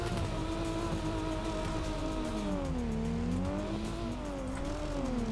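Drift car in the Torque Drift racing game, its engine droning and revving in long wavering pitch sweeps as it slides through corners, steady and loud throughout with no voices.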